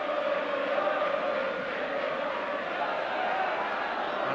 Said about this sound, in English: And quite a crowd there.